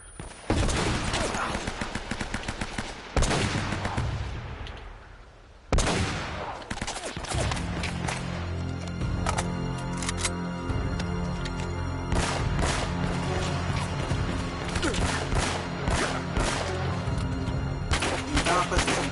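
Gunfire in the video game Uncharted: Drake's Fortune, with dense bursts of rapid automatic shots and single cracks over game music, loud and continuous, with voices talking at times.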